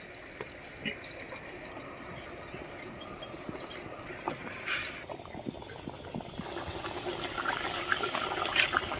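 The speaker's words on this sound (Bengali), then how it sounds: "ঝোলটা ফুটে গেছে আমি এখন মাছটা ছেড়ে দিচ্ছি" Hilsa fish pieces slide into boiling curry gravy in a home kitchen, giving a soft bubbling, watery burble with a few brief splashes and clinks against steady low background noise.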